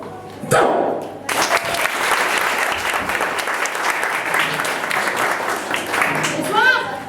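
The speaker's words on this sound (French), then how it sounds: "vous l'applaudissez jusqu'à ce que je m'en aille" An audience applauds a performer coming up to the microphone at a stage show, with a brief thump followed by sustained, loud clapping that holds steady for several seconds.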